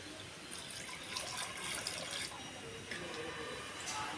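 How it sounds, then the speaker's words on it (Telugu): Water pours steadily onto pieces of jaggery in a bowl for mixing, a continuous close splashing and trickling that runs throughout with no talk over it. "బెల్లం నీళ్ళు పోసినా ఇక కలుపుతానా."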